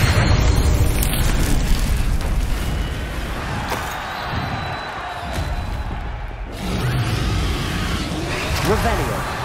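A fire spell cast in the Hogwarts Legacy video game bursts out as a loud, dense whoosh and boom, followed by sustained crackling and rumbling of flames and combat effects throughout.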